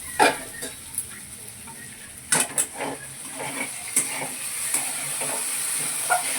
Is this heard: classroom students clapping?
no